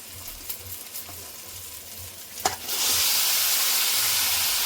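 Meat dropped into hot oil and fried spices for chicken kosha, a soft clink followed by a sudden loud, steady sizzle that holds to the end.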